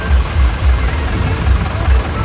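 Tractor engines at a large rally and traffic jam of tractors, heard as a loud, close, throbbing low diesel rumble pulsing in a steady rhythm.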